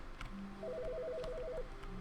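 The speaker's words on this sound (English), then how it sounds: "Whose phone is ringing?" In The Stanley Parable, an office telephone rings with a warbling electronic trill, a short burst of rapid alternating tones, quiet and steady against faint room noise.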